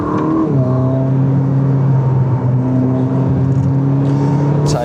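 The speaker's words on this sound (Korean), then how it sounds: "배터리를 충전하기 위해서 엔진을 돌리고 있는 겁니다" A Ferrari SF90 Stradale hybrid supercar engine revs and holds at a high idle to charge the battery, loud and close, with a steady droning hum and brief pitch shifts.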